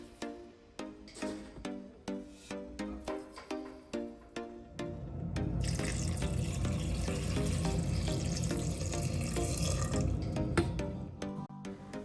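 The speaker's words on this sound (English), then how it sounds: "Add enough water to cover the kidney beans" A few drips and splashes, then a steady stream of water pours into a pressure cooker pot of kidney beans, gurgling and filling for several seconds.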